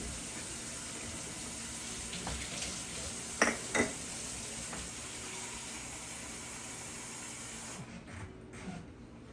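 Hot water runs steadily from a tap as a continuous rushing hiss, with a couple of light clinks partway through before the flow softens.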